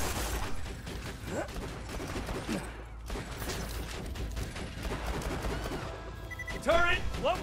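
Turret gunfire in the video game Borderlands 2 rattles on in dense, rapid bursts mixed with other busy game effects at a moderate level.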